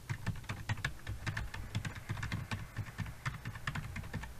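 Rapid typing on a computer keyboard, a near, fairly quiet stream of irregular key clicks with no talking.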